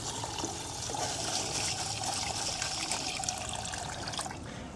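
Water pours steadily onto sushi rice in a container for rinsing, a continuous splashing trickle close to the microphone with no speech over it.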